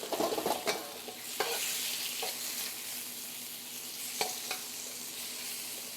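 Beef pieces sizzle and fry over a hot flame in a stir fry, a steady broadband hiss with a few sharp spatula clacks, close and moderately loud, no voices.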